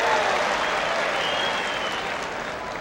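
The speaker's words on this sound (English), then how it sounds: "Round of applause for the false serve." Audience applause at a 1978 World TeamTennis match between the New York Apples and Los Angeles Strings, a steady loud wash of clapping from a crowd that slowly fades across about three seconds.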